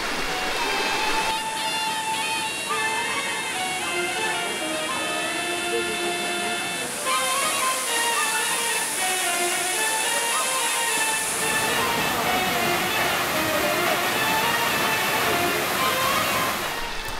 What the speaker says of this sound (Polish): Akurat w centrum miasta jest wodospad